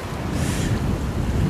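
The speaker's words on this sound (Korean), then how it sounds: "야, 파도가 와일드하다" Rough sea waves surge and churn near a rocky fishing spot in cold water, a loud, close, rushing wash mixed with wind buffeting the microphone.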